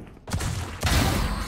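Gunfire in a first-person shooter video game, with two bursts of shots that each hit sharply and stay loud, densely filling the short clip.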